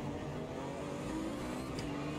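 GT1 race car in Automobilista 2 sim racing, the engine droning steadily at high revs with a slight pitch shift and faint tire noise, close and continuous without voices.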